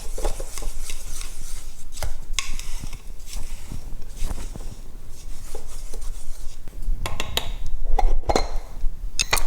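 Spoon scraping and stirring a dry homemade powdered laundry detergent mix in a bowl, a continuous gritty rubbing and rasping with occasional light clicks, close and fairly loud.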